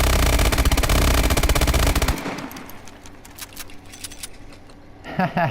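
Rapid automatic fire from the MP11 and Toxic submachine guns in Call of Duty Advanced Warfare rattles loudly for about two seconds, drops to quieter mechanical clatter, then a short burst returns at the end.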